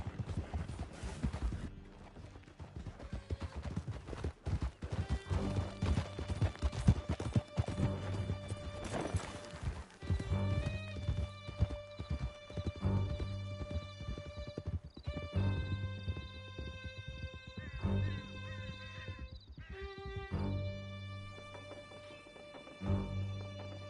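Several horses gallop in Red Dead Redemption 2, a steady clip-clop of hooves with occasional whinnies, loud and continuous throughout under a swelling orchestral score, with no talk.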